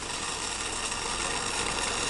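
A steady, high-pitched whirring surgical drill runs continuously without pause during guided all-on-4 dental implant surgery, a dense mechanical whine with no voices.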